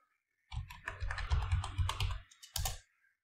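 Fast typing on a computer keyboard as a password goes in, a close burst of rapid key clicks for about two seconds, a brief pause, then a final few keystrokes.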